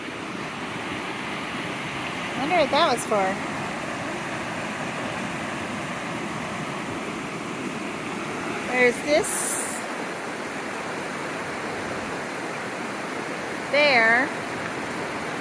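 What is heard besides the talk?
creek water flowing nearby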